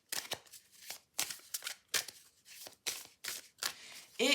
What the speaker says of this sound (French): La seconde possibilité, ça va être justement de battre les cartes